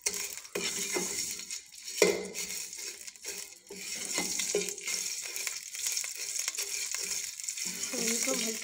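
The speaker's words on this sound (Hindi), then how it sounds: "सेवइयों को हम हल्के से इसमें फ्राई करेंगे, अच्छे से भूनेंगे।" Vermicelli stirs and fries in a pan with roasted cardamom, a soft continuous sizzle broken by repeated scraping knocks of a utensil against the pan.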